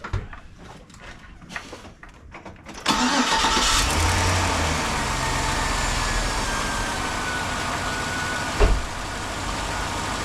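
A Chevy Silverado 1500 Cateye truck cranks briefly and fires up, then settles into a steady, loud idle that runs on unbroken, with a short knock or bump near the end.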